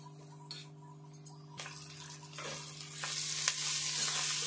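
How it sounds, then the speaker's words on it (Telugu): Onion, curry leaves and fenugreek leaves fry in a pan for an onion pulusu, a soft sizzle building up with a few scraping stirs and light clinks, close by and without talk. "ఈ ఉల్లిపాయ, ఈ కరివేపాకు, మెంతి కూర ఇవన్నీ కూడా మంచిగా దగ్గరికి వేగాలి"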